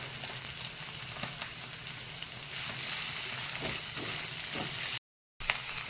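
Chopped onions with salt and garlic frying in oil in a pan for an okra and onion chilli curry: a steady, bright sizzle with crackling pops that grows a little denser partway through, with a brief dropout near the end.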